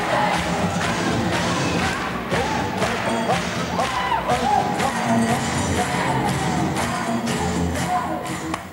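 At a 1996 ZDF "Mondscheinshow" taping, the studio audience keeps up loud, sustained clapping and cheering with scattered shouts and thumps, and voices mixed into the crowd noise.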